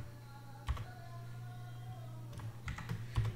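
Computer keyboard keys tapped in a few scattered bursts over a steady background hum, close and moderately quiet, with no talk.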